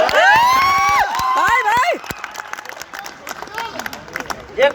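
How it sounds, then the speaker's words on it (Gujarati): An audience at a comedy program in Amdavad erupting in loud shouts, whoops and cheers with children's voices at first, then fading into scattered clapping and crowd noise. "સાહેબ તાળીઓ પાડો."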